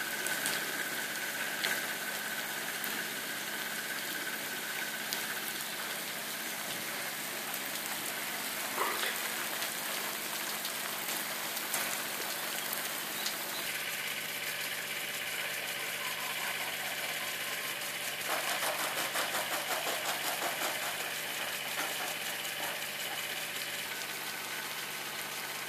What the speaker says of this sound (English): this is just the pump at idle.